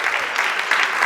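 An audience at an award ceremony for a singer gives a brief, loud burst of dense applause, sustained and uniform with no voices over it.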